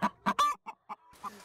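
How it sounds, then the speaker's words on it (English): A few short, close clucks from a Burmese chicken, spaced irregularly with brief pauses between them, clear and alone without talk. "Burmese chickens strutting through the town of Fitzgerald in south central Georgia"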